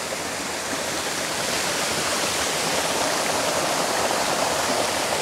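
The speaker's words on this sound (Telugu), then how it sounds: "సో ఇటు సైడ్ నుంచి వాటర్ అయితే ఫ్లో అవుతుంది మనకి." A waterfall and flowing stream pour out a loud, steady, broadband rush of water in natural green surroundings, unbroken for the whole stretch with no voices.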